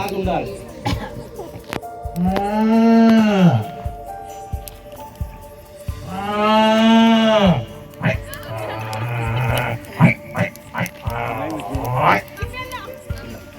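A person imitates a buffalo mooing with two long, drawn-out, rising and falling calls. Softer vocal sounds and chatter follow between and after the calls.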